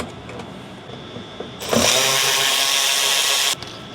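A power driver fastens Torx 15 screws under the rear fender flare cap of a 2020-2026 GMC Sierra 2500/3500, one loud steady whirring burst of about two seconds rising from quieter workshop background, with no talking.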